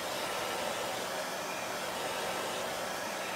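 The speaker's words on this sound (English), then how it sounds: "I'm actually going to go a little bit more with a hairdryer on this just to make sure we're dry" A hair dryer blows steadily on a chalk craft project, a constant soft broadband whoosh with no pauses and no talking.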